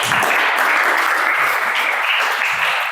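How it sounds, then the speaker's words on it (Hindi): A class of students claps in unison at a grammar lesson, a dense steady burst of hand claps sustained close by for a few seconds. "ताली बजाओ इसके लिए।"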